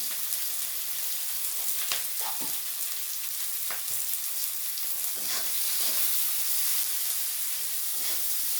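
Continuous oil sizzle with crackling pops and bursts of hiss from a large chopped onion frying in a pan with a little salt; no one speaks.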